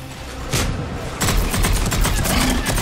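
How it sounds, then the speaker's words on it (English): Concussive Shot power firing in Mass Effect 3 combat, a sharp blast landing near the start followed by a second burst and a dense run of rapid impacts and shots, loud and close against steady battle noise. "Concussive shot."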